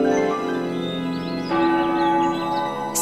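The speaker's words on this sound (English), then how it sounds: "Soon, wedding bells rang, echoing throughout the forest." Wedding bells ringing in a fairy-tale forest, rich sustained church-bell tones that ring out loud and layered, with fresh strikes chiming in as earlier ones fade.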